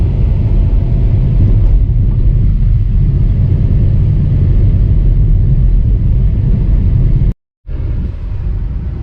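Steady wind roar from the side mirror and side glass of a Volkswagen Polo while driving, a loud, broad rumble with road noise throughout and a brief cut to silence near the end.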